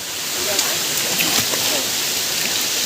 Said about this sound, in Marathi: मस्त असा धबधबा आहे